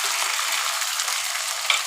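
Ground onion, garlic and ginger paste sautéed in a pan for a Bengali fish curry, giving a close, even, continuous sizzle with no voices.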